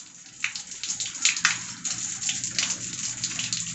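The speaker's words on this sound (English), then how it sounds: "the water flow started exactly at 2:04 p.m." Water from an automatic drip irrigation timer spatters and gushes at a steady rate in an outdoor garden, a continuous close splashing hiss with small irregular surges and no voices.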